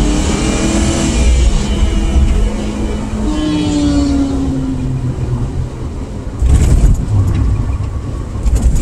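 A motorcycle engine revs hard as it passes close by on a road, a loud, rising and falling roar with a second surge of noise near the end.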